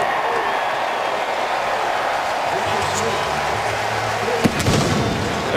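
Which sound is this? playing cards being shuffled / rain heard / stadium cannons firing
stadium cannons firing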